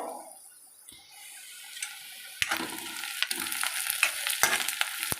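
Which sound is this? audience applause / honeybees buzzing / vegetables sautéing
vegetables sautéing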